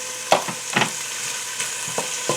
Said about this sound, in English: I'm gently frying the onions and those little turnips